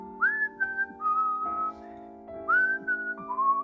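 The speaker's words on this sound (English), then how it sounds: "I hear someone outside whistle" Someone whistles a short, clear melody nearby, phrases rising and sliding over a soft, steady background hum.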